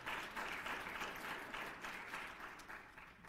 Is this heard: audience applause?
yes